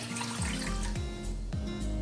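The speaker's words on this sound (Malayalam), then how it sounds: "ഒരു പാത്രത്തിലേക്ക് ഒരു കപ്പ് വെള്ളം ഒഴിച്ചു കൊടുക്കാം" A cup of water pours steadily into a cooking pot to begin a sugar syrup for malpuri, a continuous close splashing stream running throughout, alone without talk.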